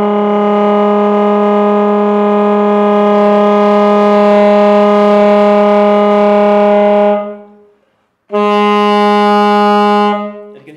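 A saxophone growl, made by singing a C while fingering an F, gives a loud, buzzing tone with rich overtones. It is held steadily for about seven seconds, stops briefly, then returns for another two-second burst.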